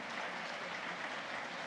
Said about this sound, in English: another big warm applause for our speakers here tonight